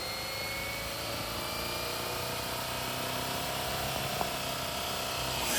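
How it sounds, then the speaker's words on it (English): An RC GPS helicopter's rotors spool up with a continuous rising whine and whir, steady and close, building slightly louder toward the end with no talking. "the spool up on these helis is pretty scary, man, but they do fly well"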